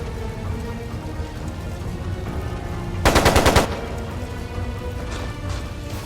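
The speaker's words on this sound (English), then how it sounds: "It sounded like a machine gun." Machine gun fire in the game Trails of Cold Steel: one loud, rapid burst of about half a second cutting through a steady background wash of ambient game sound.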